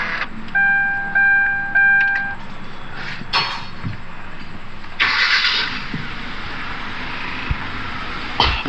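A 2011 Kia Forte starting up: a chime and clicks, a short starter crank, then the engine catches and settles into a steady close idle with a few small knocks, no voices.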